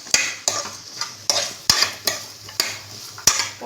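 Peas and spices being sautéed in a pan for a drumstick gravy, with a steady low sizzle broken by repeated sharp scrapes of a spoon stirring at a regular rhythm, close by and fairly loud.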